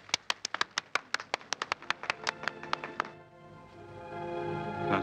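An audience in a film scene claps in a quick, sharp run of about twenty crisp claps that stops abruptly. After the claps, a sustained orchestral tone swells and fills the rest.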